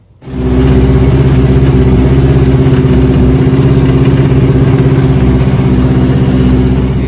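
A car engine cranks and fires up, then settles into a loud, steady running hum with a constant low throb, close and alone with no talking.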